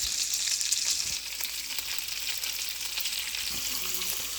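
Onions sizzle steadily in a pot still hot from cooking pasta, a constant hissing fry with faint stirring scrapes, close and fairly soft, with no talking.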